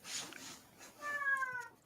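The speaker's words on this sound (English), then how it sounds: "Apologies for the meowing in the background." A poorly house cat meows once in the background, a faint, drawn-out cry, with soft room noise and no talking.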